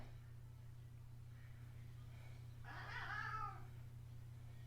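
A cat meows once, fairly close, a short rising-then-falling call over a steady low electrical hum in an otherwise quiet room.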